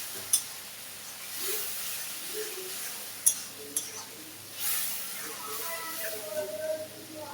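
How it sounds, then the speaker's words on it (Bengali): Onions cooking with a ginger, garlic, green and dried chili, cumin and turmeric paste in a pan give off a soft steady sizzle with a few scraping stirs and clicks, faint and close, while a voice talks quietly over it. "মশলাটা কষানো হয়ে যাচ্ছে, আর একটু কষাবো।"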